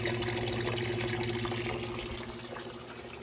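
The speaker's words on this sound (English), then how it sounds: "It's pumping the water in here. You take this net pot out, you see the water pouring through." Water from a hydroponic pump pours and trickles through a net pot in an indoor home-built system, a steady close splashing flow that eases slightly toward the end, with no talk.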